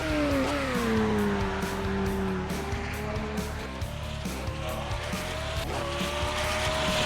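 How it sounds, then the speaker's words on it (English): McLaren hypercars lapping Sebring in a racing sim, engine revving and shifting with sharp gear changes, tyre squeal and skidding, loud and close throughout. "HyperCars, all McLarens here."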